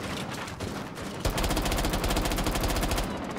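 Rapid automatic gunfire in a first-person shooter video game, a sharp burst of evenly spaced shots that starts abruptly after scattered earlier shots and continues loudly and steadily to the end, with no talk over it.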